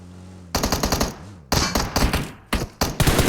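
Automatic gunfire from PUBG Mobile rattles out in four loud bursts separated by brief gaps, each a rapid string of sharp shots.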